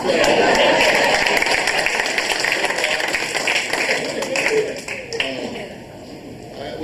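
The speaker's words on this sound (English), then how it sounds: "Can we have a round of applause for Bill?" A crowd at a school class reunion breaks into a sustained round of applause, dense clapping that stays loud for several seconds before thinning out, with some voices mixed in.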